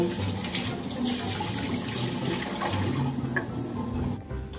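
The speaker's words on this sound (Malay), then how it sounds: "So sekarang ni kita nak isi air untuk rebus the telur kita." Tap water running steadily into a cooking pot to boil eggs, a continuous close splashing and gurgling that stops abruptly near the end, with no talking.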